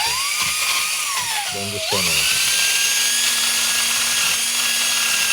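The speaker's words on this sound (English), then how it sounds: "Why am I using a drill?" A drill whines steadily while removing rust from a vintage circle cutter after an Evaporust bath, its pitch dipping and then rising to a sustained high tone. A person speaks briefly over it near the start.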